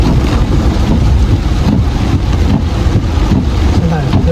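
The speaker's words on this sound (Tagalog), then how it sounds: "Lakas lang sadya talaga yung ulan." Heavy rain driven by strong wind, a dense, loud, continuous hiss and roar with gusty low rumbling, heard close and steady throughout.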